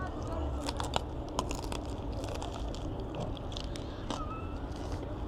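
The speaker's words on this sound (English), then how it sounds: "I heard a little crunch there." A bite into a pretzel roll pork roll sandwich gives a few soft, close crunches and chewing sounds, faint under steady room noise.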